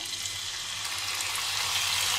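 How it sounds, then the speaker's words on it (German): Chicken meat sizzling in hot oil in a pan for spring rolls, a steady bright hiss that grows slightly louder, heard close with no talk. "So, das Öl ist warm. Jetzt werden wir das Hähnchenfleisch reinmachen erstmal."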